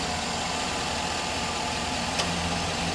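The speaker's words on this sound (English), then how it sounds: "and there's the V8." A 2011 Chevy Silverado 4x4 V8 engine runs at a steady idle close by, an even low rumble with one brief click partway through.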